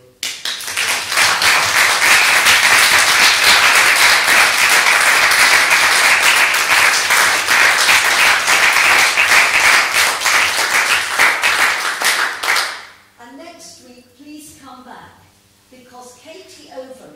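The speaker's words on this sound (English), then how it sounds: "give them a round of applause" An audience at a university research forum breaks into loud, sustained applause lasting about twelve seconds, then the clapping stops abruptly and a single speaker begins talking.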